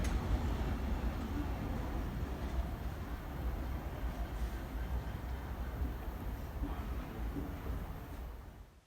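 A train rumbles past on a busy main line, with a steady low roar and rolling rail noise from start to finish before it fades slightly at the very end.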